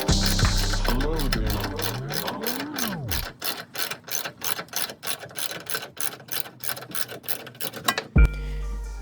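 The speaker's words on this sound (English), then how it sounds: "I'm going to use a 1/2" drive ratchet to remove the full bolt." A 1/2-inch drive ratchet backing out a truck bed bolt on a Toyota Tacoma during a bed stiffener install, first in long sweeping strokes, then a fast even run of close, loud clicks, with a voice briefly speaking at the start.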